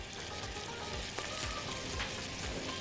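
Onions frying in a pan, giving a steady close sizzle and crackle throughout with no voices.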